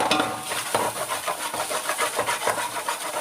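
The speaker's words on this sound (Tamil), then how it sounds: "நீங்கள் வந்து இது மாதிரி அடி பிடிக்காத நல்லா வந்து கிளறி விட்டுக்கணும்." Biryani masala being stirred in a pot, a steady rhythmic scraping and rubbing of a utensil against the pot with faint sizzling underneath, close and continuous with no voices.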